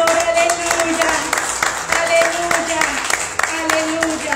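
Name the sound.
church congregation applauding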